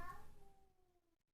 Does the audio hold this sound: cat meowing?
yes